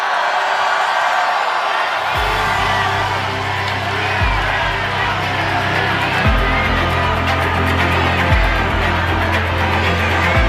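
A large outdoor crowd at a political rally in Korea cheers, shouts and claps continuously and loudly throughout, with rhythmic drum-like thumps and rally music pulsing beneath the roar.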